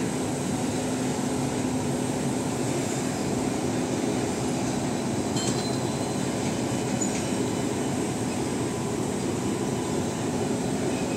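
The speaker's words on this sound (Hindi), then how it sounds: "अभी इस ट्रेन को ऑरेंज लाइट मिल गया, ऑरेंज लाइट कॉशन होता है, तो ये धीरे धीरे जाके जाना शुरू कर रहे हैं।" A train creeps slowly away on a cautionary orange signal, its steady rumble and wheel noise filling the scene, close and loud, with faint metallic squeals rising over the continuous drone.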